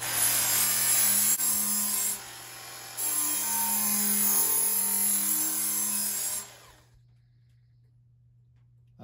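Work Sharp MK II belt sharpener running a coarse belt against a scythe blade, a steady close grinding whir with rasping contact for about six seconds before the machine winds down and stops.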